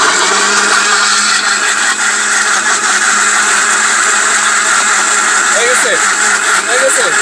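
An electric grinding machine crushes ginger with a loud, steady motor drone that holds throughout, while people talk over it.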